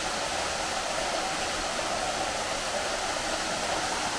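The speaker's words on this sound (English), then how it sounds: "the river is coming from the top of this house, of this mill, passes through the mill and then gets out here." Steady broadband rush of river water pouring through an old mill in Arequipa, Peru, a constant close hiss without breaks or voices.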